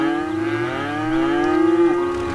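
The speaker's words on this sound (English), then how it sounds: "the mooing" Cattle in the city-building game Cities Skylines moo in one long, loud, sustained low call that slowly rises and wavers, with no talking over it.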